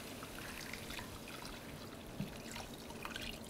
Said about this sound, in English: I'm going to have you pour that chicken broth in here